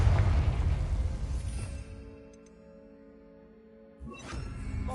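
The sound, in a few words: Confringo fire blast spell exploding in Hogwarts Legacy video game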